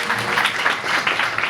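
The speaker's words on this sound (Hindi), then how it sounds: "इन बाजी के लिए बहुत सारी तालियां बजाइए।" Brief, dense applause from an audience at a Sunday church meeting, many hands clapping steadily and fairly close for under two seconds.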